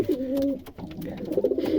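Domestic pigeons kept for trade coo in low, throaty, rolling calls, a couple of bursts close by with a brief pause between, nearly free of talk.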